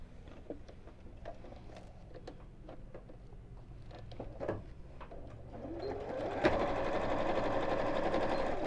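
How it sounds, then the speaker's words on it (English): A sewing machine stitches close along the edge of a fabric bag, a steady close mechanical whir with light ticking that speeds up and grows louder toward the end, with no voices. "I'm going to sew this again very close to the edge"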